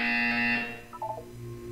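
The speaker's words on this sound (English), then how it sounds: "You will hear a buzzer." A flat electronic buzzer in the video game Portal 2 sounds for about half a second, then cuts off into quiet room tone with a few faint blips.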